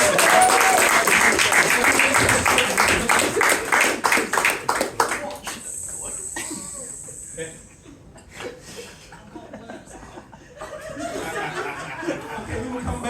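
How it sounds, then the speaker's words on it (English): A crowd at a hypnosis stage show in Colchester claps rhythmically and loudly for several seconds, then the applause thins into scattered claps, chuckles and chatter, with some speech in the mix. "Give her a big round of applause, ladies and gentlemen."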